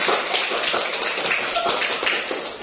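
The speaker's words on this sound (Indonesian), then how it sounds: "Tepuk tangan dulu." Children in an Indonesian classroom clap together, a dense, steady patter of many small hands sustained throughout at moderate loudness, with no talk over it.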